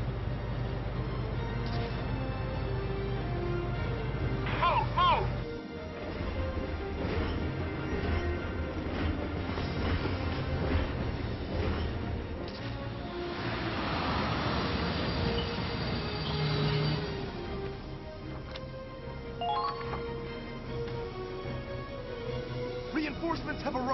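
An armored train in the video game Valkyria Chronicles 4 rumbles along the rails with clanking and metallic squeals, a steady loud mechanical roll under intermittent speech and game sounds.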